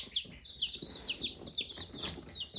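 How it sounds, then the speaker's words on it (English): A brood of 32 newly hatched baby chicks peep continuously in high, overlapping chirps, a busy close chorus with no talking. "we've got 32 new baby chicks here"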